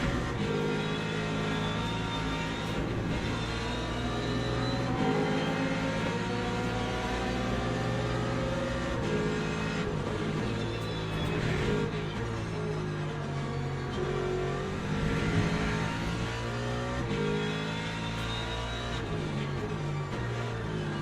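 A Ferrari race car's engine in a racing game as the car wiggles and spins out: a steady, loud revving drone that holds for about twenty seconds with no one talking.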